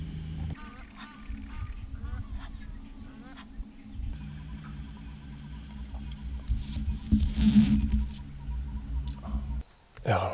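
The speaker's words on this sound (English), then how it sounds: "Egyptian geese being very noisy in the background" Egyptian geese honk loudly in the background of a safari game drive, with repeated harsh calls bunched together under a low vehicle hum and a faint voice.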